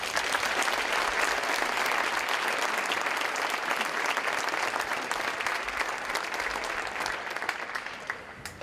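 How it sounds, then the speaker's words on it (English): A gym crowd at a high school basketball game gives a long, loud burst of applause for senior parents, dense clapping filling the room and easing off toward the end. "please join me in a big round of applause for our senior parents"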